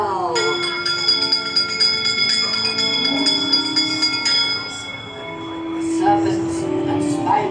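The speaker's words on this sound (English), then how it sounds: "give us a hint by ringing a bell." A bell rings with bright, sustained metallic tones that hang and fade, under a spoken voice and eerie ambient sound, inside the Haunted Mansion ride at Disneyland, Anaheim, California.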